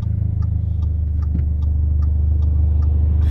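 An Audi/VW four-cylinder, freshly treated with CRC valve cleaner through a boost tap, idles steadily up close with a smooth low drone and a faint, regular ticking throughout.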